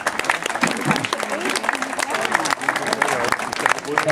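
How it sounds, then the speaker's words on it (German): Warm applause from an audience at the unveiling of the Backnang Claqueure sculptures, dense clapping with some voices mixed in, lasting throughout. "Und ich denke, sie hat einen herzlichen Beifall verliehen."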